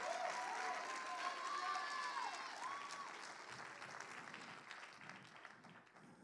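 A church congregation claps and cheers loudly for their pastor, dense applause that starts strong and slowly fades, with a preacher's voice and shouts mixed in.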